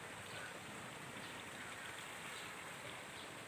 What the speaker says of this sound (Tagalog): Ayan ang sapa sa likod ko.